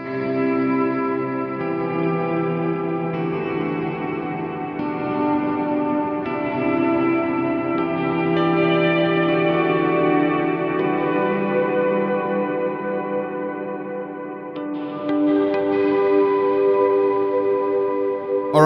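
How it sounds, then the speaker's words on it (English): An electric guitar sustains chords through a heavy ambient reverb effect, tones blooming and washing into a long, shimmering tail; loud and continuous, with a fresh strum near the end. "listen if I add in some of this more pronounced ambient reverb"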